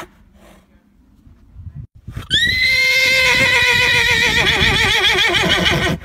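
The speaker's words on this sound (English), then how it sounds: "Play this sound in front of your horses and see how they react." A horse neighs in a loud, long, wavering whinny right up close, after a quieter start with faint background noise.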